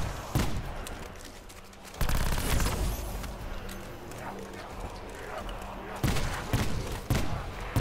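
Repeated loud shots from the Essex Model 07 lever-action rifle in Black Ops 4 Zombies, with several distinct blasts spaced a couple of seconds apart over game background sound.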